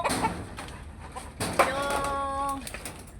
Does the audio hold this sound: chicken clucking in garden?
yes